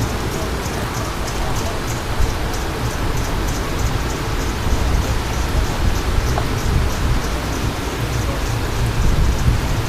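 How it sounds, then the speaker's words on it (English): A supercell thunderstorm over St. Louis, Missouri, dumps heavy rain with golf ball size hail, a dense, loud, continuous hiss and patter with occasional sharper impacts and no pause. "This storm is producing golf ball size hail right now."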